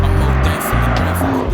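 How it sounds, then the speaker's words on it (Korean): Porsche Panamera Turbo S E-Hybrid eight-cylinder engine in Sport Plus mode, a loud, close, continuous growl with a slightly shifting pitch through the short burst. "벌써 엔진이 으르르르 하고 있는 그 맹수의 어떤 숨소리 느껴집니다"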